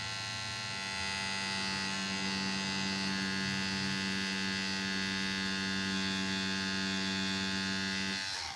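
A tattoo machine buzzes steadily with a strong electric hum as its needle runs over a stencil, one continuous drone with no voices, cutting off abruptly at the end.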